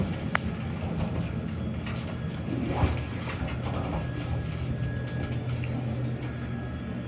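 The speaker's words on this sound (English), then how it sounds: "Here's the elevators if you guys like elevators." Hotel elevators at a Wingate by Wyndham in Lancaster, Pennsylvania run with a steady low mechanical hum and faint rattling and clicking, close by and continuous, with no talking.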